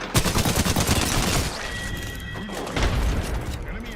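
Gunfire in an Apex Legends match, rapid bursts of shots dense at the start and returning near the end, mixed with game effects, with players talking over the action.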